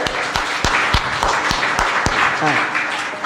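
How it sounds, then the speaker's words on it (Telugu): A church congregation claps hard in a steady, even rhythm, with sharp claps in quick succession close by and a murmur of voices beneath them. "ఒకసారి గట్టిగా క్లాప్స్ కొట్టండి, గట్టిగా."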